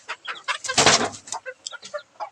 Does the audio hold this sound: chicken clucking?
yes